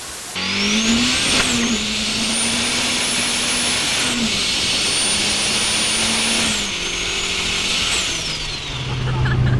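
A turbocharged B16-powered Triumph Acclaim engine revs hard and loud, up close, with a rising whine and turbo whistle that climbs, holds and drops through several gear changes. No one talks over it.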